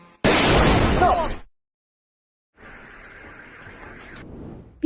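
A loud blast from drones striking a military airfield booms up close, and a rumbling burst fades into silence before a quieter, muffled rumble follows.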